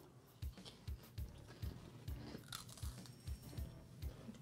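Repeated crunchy bites and chewing of a Christmas cookie, close and quiet, with about nine evenly spaced crisp crunches.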